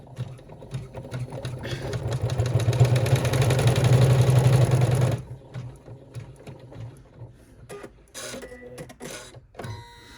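An embroidery machine stitches a sling backpack in the hoop, working near a D-ring strap connector. A loud, steady mechanical whir runs for about five seconds and then stops, followed by scattered clicks and handling noises.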